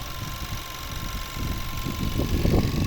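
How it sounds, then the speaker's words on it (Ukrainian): A 2018 Buick Cascada's 1.6 turbo petrol engine idles steadily and smoothly with a low, even hum and a faint whine, growing slightly louder toward the end. "Ось робота двигуна. Послухайте, як рівно тихо працює."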